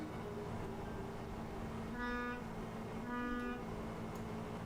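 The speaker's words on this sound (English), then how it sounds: "So, stuff honking just outside." Car horns toot twice out on the street, each short harmonic honk rising above steady traffic rumble, sounding distant and muffled as if heard from indoors.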